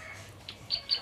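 A white-rumped shama (murai batu) sings a few short, bright chirps over faint background noise, the notes coming in quick bursts near the end.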